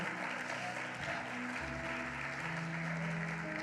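Audience applause fills a church conference hall, steady and dense throughout, with low tonal hum and a faint voice beneath.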